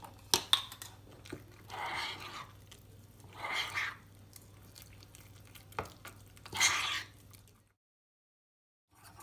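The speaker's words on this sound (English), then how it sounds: "I've just switched over now to this little whisk I've got, which will get rid of all the lumps" Mug cake batter of egg, oil and milk being whisked with a small whisk, soft wet scraping bursts in short rhythmic spells with pauses, close and fairly quiet, ending in silence.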